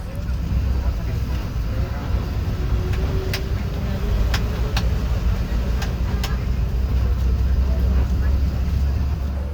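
An ALS intercity bus rumbles while boarding a regular ferry at Merak port, with a steady low engine drone, scattered sharp clanks and knocks, and talk mixed in.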